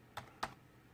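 Two crisp, separate keystrokes on a computer keyboard, close and fairly quiet, spaced about a quarter second apart against a low background hiss, with no voices.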